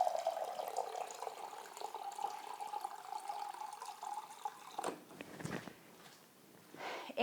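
Cold distilled water poured into a cup, a steady faint trickle for several seconds, then softer splashes and clinks as the pour ends.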